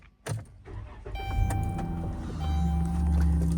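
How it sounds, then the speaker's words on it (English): A car engine cranks and catches, then settles into a steady idle close by, with a brief click and whir of electrics at the start. "Let me start my vehicle quick."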